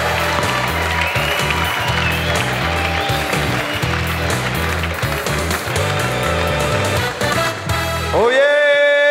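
A comedy club audience gives sustained applause and cheering for comedian Miguel 7 Estacas, steady clapping over music, ending with a sudden shift to a sustained tone.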